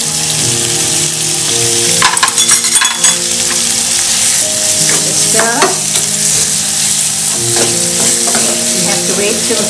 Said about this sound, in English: I'm adding the tomatoes. And the chili, garlic and ginger paste.